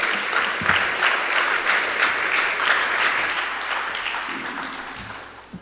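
Audience applause welcoming Jamaica's Minister of Agriculture, Fisheries and Mining, a dense, steady roar of many hands that holds throughout and slowly tapers toward the end.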